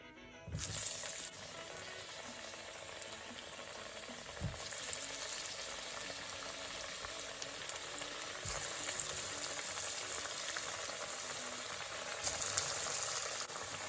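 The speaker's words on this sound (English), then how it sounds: "So I'll just leave those to fry, and my stove is on medium heat" Falafels fry in oil in a pan on a stove at medium heat, a steady close sizzle and crackle running throughout with occasional louder pops and bursts.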